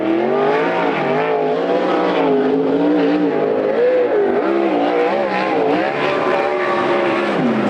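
Sprint race cars qualifying at Coos Bay Speedway, a loud, continuous engine roar that rises and falls as a car laps the track close by.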